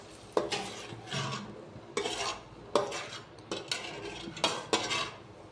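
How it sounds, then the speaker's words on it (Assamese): A utensil stirs paneer gravy thinned with a little water in a pan, making repeated scraping strokes against the metal with clinks, about eight in a steady uneven rhythm, close and moderately loud, with no talking. "এইখিনি এতিয়া মিক্স কৰি দিম"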